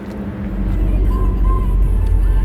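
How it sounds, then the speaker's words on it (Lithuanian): A car tows another car toward a race track, its low steady engine rumble and road noise rising slightly and holding constant throughout, with a faint brief tone drifting over the hum. "prisikabino mašiną prie mano mašinos ir dabar tempsim"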